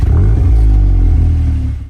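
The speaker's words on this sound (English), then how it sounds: "This exhaust sounds good enough anyway" An Audi S3 Black Edition exhaust revs loud and close, a deep throaty engine note rising and then easing off over about two seconds.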